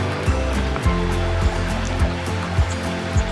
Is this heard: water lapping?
yes